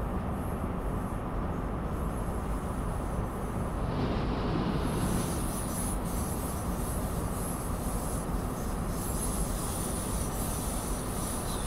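An InterCity East Coast train running from Edinburgh Waverley to Aberdeen, near Stonehaven, with the brake applied: a steady loud rumble of wheels and carriage noise, with a faint higher squeal partway through.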